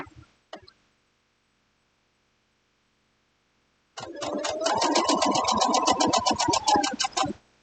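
A pedal-operated electric sewing machine stitches a quilt block after a long silence, starting with a few faint clicks and then running in a fast, steady mechanical chatter with a rising whirr, loud and close.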